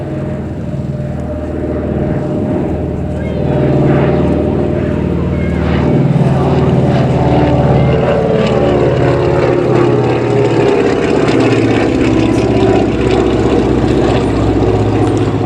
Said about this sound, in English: Slow pass with an Electra is 100 mph, gear down, flaps down.